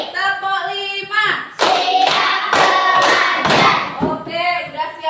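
A classroom of students claps in unison through a counted clapping routine, with four or five sharp group claps between voices calling out the numbers.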